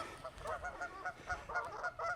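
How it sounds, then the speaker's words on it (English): Angry geese fight each other outdoors near a golf course green, giving repeated loud, nasal honks in quick uneven bursts, close by with no talk over them. "very angry geese fighting each other"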